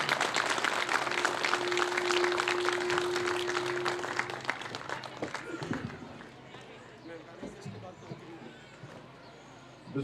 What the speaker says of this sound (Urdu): بھرپور تالیوں سے